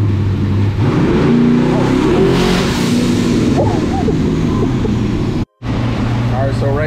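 A boosted Cadillac CTS-V engine roars close and loud during a dyno pull, rising and surging in pitch under brief shouting, then cutting out for an instant near the end.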